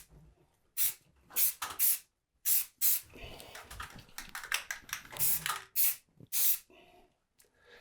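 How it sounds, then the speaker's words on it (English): Short bursts of mold-killing aerosol spray hiss out one after another, some clipped and some held longer, close by with quiet gaps between. "Now just spraying this stuff on here, that's gonna kill this mold"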